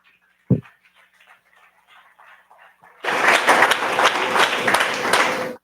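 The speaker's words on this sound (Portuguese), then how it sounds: "Aplauda o rei." A church congregation at a Sunday worship service breaks into loud, dense applause after about three seconds of faint murmuring and a single sharp thump, and the clapping stays full and steady to the end.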